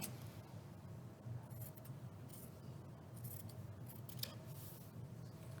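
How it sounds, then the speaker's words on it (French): Scissors snip through a fabric strip at a sewing workshop, a series of faint, close, irregular cutting clicks and rustles over a quiet room hum. "dans la longueur de la bande, vous venez aligner tous les bords, à peu près. Vous marquez un petit repère ici et vous pouvez couper"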